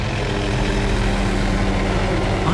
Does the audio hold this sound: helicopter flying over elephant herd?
yes